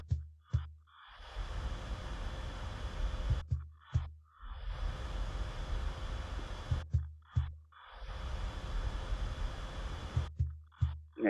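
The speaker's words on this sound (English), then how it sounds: "So this is a cajon, which is a little box that you sit on." Cajon, a wooden box drum played while seated, beaten in a slow repeating pattern of deep thumps and sharper slaps, three clear phrases separated by short pauses, close and moderately loud with no talking.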